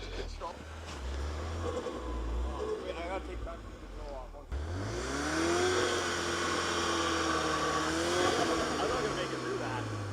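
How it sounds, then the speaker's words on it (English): A car doing a launch-control start in powder snow, the engine rumbling and then rising sharply through a sweeping rev, loud and close, with voices talking over it early on. "Launch control in the snow, about to go crazy."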